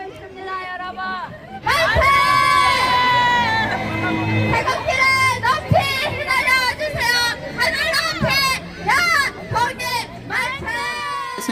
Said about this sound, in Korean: 일본군의 저지는 터지는 만세 소리에 묻힙니다